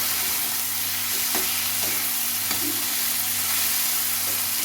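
Spiced mutton mince with peas, onion and tomato being stirred in a hot pan, a steady close sizzle and frying hiss with a few faint scrapes of the spoon, no talking.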